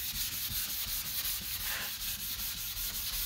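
Hand wet sanding of 2K primer along a car body line: a steady, rhythmic rasping rub, close and fairly quiet, with repeated back-and-forth strokes about every quarter second.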